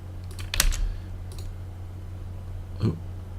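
Keys clatter on a computer keyboard as AutoCAD commands are entered, a few quick clustered taps early, a short pause, then another brief keystroke burst, close and crisp with no talking.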